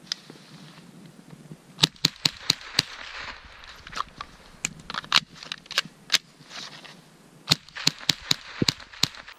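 Sharp, distant-sounding shots from a GSG-15 rifle fired outdoors, spaced single cracks and quick clusters over a low steady background hiss, with no talking.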